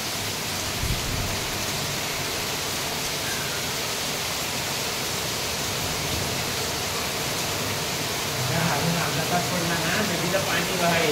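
First monsoon rain falling in Konkan, a steady broadband wash that holds throughout and swells slightly near the end, with voices faintly present under it.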